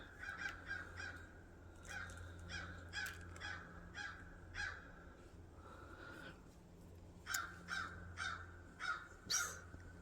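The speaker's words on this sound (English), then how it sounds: "can hear the crows." Crows caw repeatedly, harsh calls coming in short clusters with gaps, fairly distant and soft over a low steady hum, with no voices.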